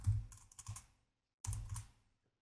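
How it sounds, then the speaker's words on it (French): Keys on a computer keyboard clack in two short, quiet bursts of close, soft strokes separated by a brief silence, with nobody speaking. "Et ensuite, je vais taper le nom de mon rendu."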